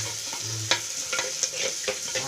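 Onions and green chillies sizzle steadily in oil in a pan with a few sharp stirring scrapes and clinks over the hiss, close up and with no voices.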